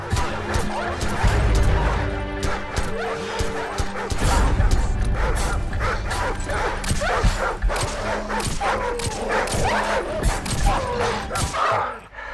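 In Call of Duty 4, a dog barks and snarls in rapid bursts during an attack, with crashes, gunfire-like impacts and brief speech mixed in.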